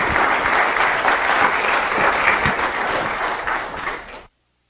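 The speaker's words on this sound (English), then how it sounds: "I love getting applause before I even say anything." An auditorium audience gives loud, sustained applause welcoming Dr. Scott Tannenbaum to the podium for a lecture on the science of teamwork. The dense clapping holds steady, then cuts off abruptly near the end into silence.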